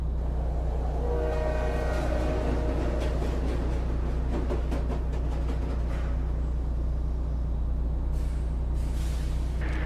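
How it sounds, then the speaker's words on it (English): Train horn blasts in the distance in the Silent Hill video game, repeated tonal honks over a steady rumbling rail drone, ending with hissing bursts like air brakes. "another train horn can once again be heard blasting off in the distance"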